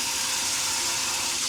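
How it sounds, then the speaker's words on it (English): Hot water from an off-grid, flame-heated shower system rushes out in a steady, loud, close hiss with no pauses. "got some nice hot water going into there."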